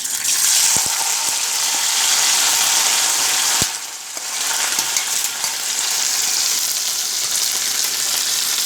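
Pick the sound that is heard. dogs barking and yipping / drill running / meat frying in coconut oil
meat frying in coconut oil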